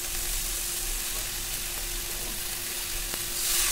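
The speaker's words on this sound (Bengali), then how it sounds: "তার মধ্যে দিয়ে দেবো আমি কেটে রাখা শাকগুলোকে দিয়ে আবার ভালো করে নাড়িয়ে চাড়িয়ে নেব" Chopped pumpkin greens sizzle steadily in a hot pan as they are stirred, a continuous close frying hiss with faint scraping, no talk.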